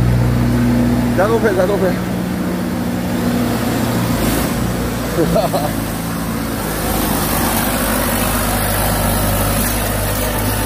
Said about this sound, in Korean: 오, 시동 걸리고 연기 빨리 나오고 있습니다.